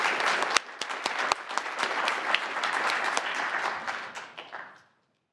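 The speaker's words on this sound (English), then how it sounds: "Let's welcome her with a round of applause" An audience at a student pitch session at an innovation summit claps in a full round of applause, with a few sharper nearby claps standing out, gradually thinning and fading to silence near the end.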